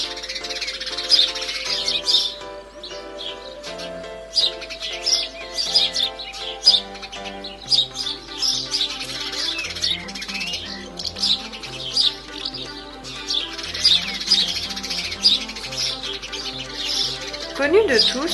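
Wood pigeons, house sparrows and other birds gathered in Loire-Atlantique: a lively, continuous mix of nearby chirps and tweets with occasional soft cooing, busy throughout.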